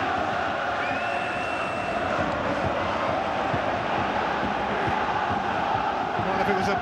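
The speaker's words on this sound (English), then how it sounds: "You go into half-time here with the majority of the crowd celebrating" A large football crowd roars steadily at an Old Firm match, Rangers fans celebrating a goal that makes it 2-1 just before half-time, a dense, sustained wall of cheering at a distance.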